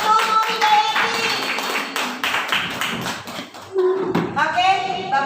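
An audience applauds a company director after her speech at a PT Silika Jaya product presentation, a dense patter of clapping with voices and tonal sounds mixed in, easing midway and then rising again.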